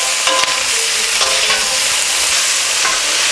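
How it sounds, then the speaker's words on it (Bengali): Mixed winter vegetables sauté with salt in a large pan for a vegetarian labra, a loud, close, steady sizzle with repeated scraping strokes of a stirring spoon; no speech. "এটাকে খুব ভালো করে কষবো।"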